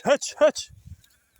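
Sheep being herded bleat twice in quick succession, loud and close, followed by faint low shuffling and then near quiet.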